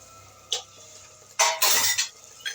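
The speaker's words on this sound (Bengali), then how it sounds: "ঢাকনাটা খুলে আমি একবার নেড়ে চেড়ে নিচ্ছি" A pan lid lifts off with a sharp clink, followed by a brief scraping stir of egg curry in the pan, a couple of close metallic knocks and scrapes with quiet pauses between.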